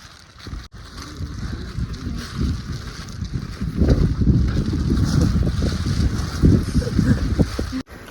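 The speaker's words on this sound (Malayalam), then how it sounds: "ഇവിടുത്തെ കാറ്റാണ് കാറ്റ് കേട്ടിട്ടില്ലേ" Strong wind gusts roar steadily across the microphone on a hilltop trek in Madikeri, buffeting harder midway and staying loud throughout, with no voices.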